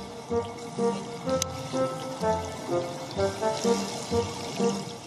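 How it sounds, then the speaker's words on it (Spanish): A young whale blowing a bubble net underwater, a run of bubbly, gurgling bursts pulsing in an uneven rhythm, close and moderately loud against a watery background. "Al principio no es fácil hacer una red de burbujas."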